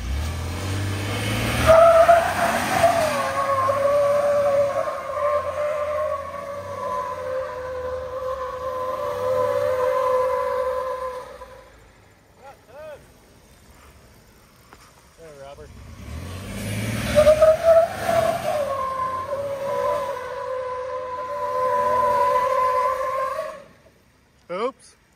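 2021 Ford F-150 pickup drifting on a farm lot, two long bursts of loud revving and screeching tire squeal separated by a quieter lull, with people talking between the slides.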